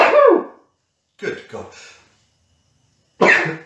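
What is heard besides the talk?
sneeze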